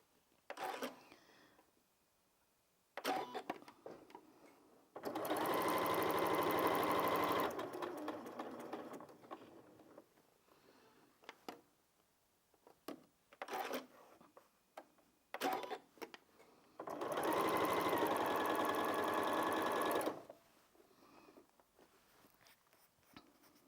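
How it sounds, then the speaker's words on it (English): A sewing machine chain pieces fabric squares for a festive table runner, running in two distinct bursts of rapid stitching separated by quiet stretches with small clicks and handling noises. "what I'm going to do now is I'm just going to chain piece a few of them together"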